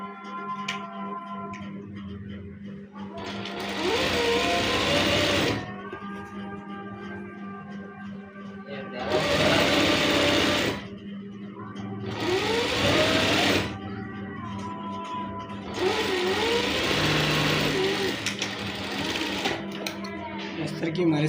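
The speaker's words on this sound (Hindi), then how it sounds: "सबसे पहले हम अस्तर की सिलाई लगा लेंगे नीचे से" A sewing machine stitches the lining of a waistcoat in several sustained runs of rapid mechanical whirring, each lasting a few seconds and separated by short pauses, loud and close over a steady background hum.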